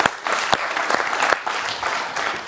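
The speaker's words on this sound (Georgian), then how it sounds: "სავალი აპლოდისმენტები ბექას" A studio audience at a Georgian television game show breaks into loud, continuous applause, with dense clapping from many hands that holds steady throughout.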